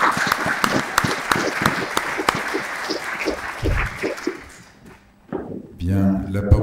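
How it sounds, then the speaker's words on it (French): Audience at a conference applauding, a dense patter of many hands clapping that fades out after several seconds before voices and movement resume. "Je vous demande de les applaudir parce qu'ils sont tous très enthousiastes."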